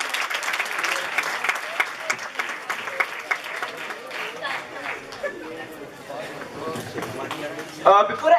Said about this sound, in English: once more a huge round of applause for the Organizing Committee